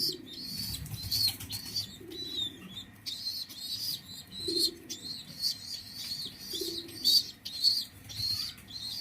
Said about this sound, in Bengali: দেখেন দুইটা কবুতর খাওয়াইতেছে